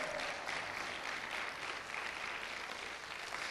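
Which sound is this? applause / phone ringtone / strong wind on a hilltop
applause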